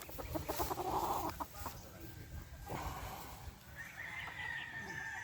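A 3-way cross gamefowl rooster on a game farm crows once, fairly faint and a little distant, followed by quieter farmyard noise.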